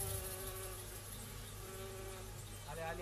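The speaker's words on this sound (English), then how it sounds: "Hives dripping with bees and honey." Wild bees swarm around hives dripping with honey, making a dense, continuous buzzing hum close by, with a steady, insistent drone throughout and no talking.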